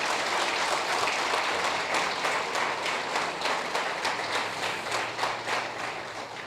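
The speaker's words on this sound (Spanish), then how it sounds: "Dale un aplauso a Cristo en esta mañana." A church congregation applauds during a Sunday morning service, steady dense clapping that holds at even loudness and slowly tapers off toward the end.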